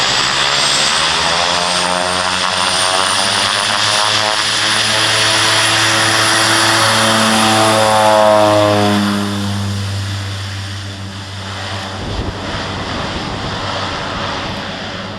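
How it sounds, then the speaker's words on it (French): Propeller plane taking off on a very short strip in the Canadian Arctic, its engine droning loud and steady with a rising then easing pitch before the roar drops back near the end. "Il a mis un point d'honneur à décoller sur même pas 100 mètres."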